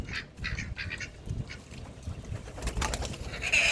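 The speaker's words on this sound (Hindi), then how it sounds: "ये कबूतर ही है।" Soft pigeon cooing in low, murmuring pulses, with scattered bird calls and light rustling around it.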